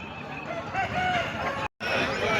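A rooster crows loudly at the Pileru chicken market, amid dense market chatter and clucking fowl, with a brief cut of silence near the end before the crowd noise resumes.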